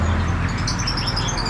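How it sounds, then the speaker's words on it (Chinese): A spotted dove coos at a roadside bird shop in Java: a brief, low, steady call at the start within a dense wash of traffic and street noise. "在这个爪哇、中爪哇特别喜欢养这种鸟， 斑鸠。"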